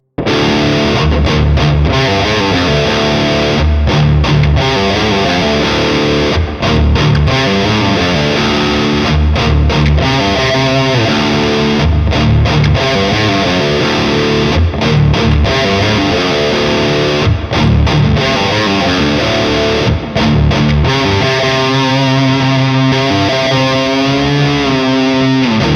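A heavily distorted electric guitar plays a chugging, stop-start riff, with palm-muted bursts, sharp gaps of silence and a bent note, loud and alone.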